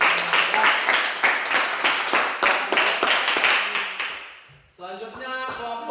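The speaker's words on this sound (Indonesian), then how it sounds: "Oke, beri tepuk tangan lagi untuk kelompok 3" A classroom of students claps for a group after its presentation, brisk rhythmic applause for about four seconds, fading out before a voice begins speaking.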